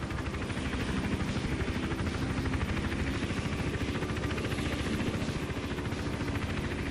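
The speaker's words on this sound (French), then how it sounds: "C'est l'hélico, je pense qu'il va me faire repérer à force." A helicopter in Hitman Absolution hovers close overhead, its rotor thudding in a steady rapid chop with loud sustained engine whine, alone without talk.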